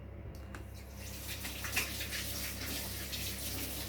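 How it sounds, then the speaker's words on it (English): Tap water runs steadily into a sink while hands are washed in a home kitchen, a continuous close splashing hiss with a brief brighter spatter partway through, no voices. "I'm just going to wash my hands"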